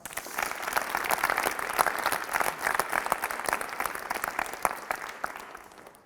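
A high school audience gives a round of applause at a school assembly, with dense steady clapping from many hands in a hall that swells, holds, then tapers off at the end.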